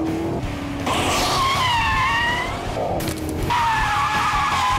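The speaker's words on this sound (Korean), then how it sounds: "다만 페라리의 엔진을 조금 출력을 낮췄다 해도 명불허전 페라리의 엔진입니다" Maserati GranTurismo Sport with a detuned Ferrari-derived engine revving hard, the pitch sweeping up through repeated climbs with a brief cut between, loud and close with tyre squeal mixed in.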